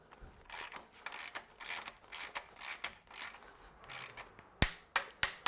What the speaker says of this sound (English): just go round until you get that reassuring click